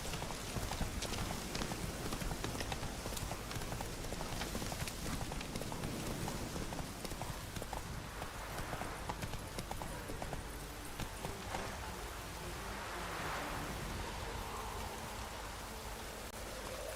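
Hooves of Geralt's horse Roach galloping in The Witcher 3: Wild Hunt, a steady rapid clip-clop running under a continuous wash of rain-like game ambience with no talking.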